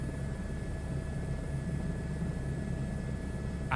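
A helicopter in Microsoft Flight Simulator 2024 gives off a steady, droning rotor and engine noise with a faint tonal whine. It holds at an even level throughout, with no voices.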